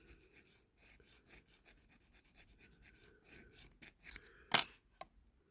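Light rubbing and filing on a 1948–53 diecast Dinky Toys Triumph 1800 model, close and quiet with a steady run of short rasping strokes, ending in a sharper scrape and a small clatter near the end.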